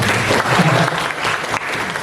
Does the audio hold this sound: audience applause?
yes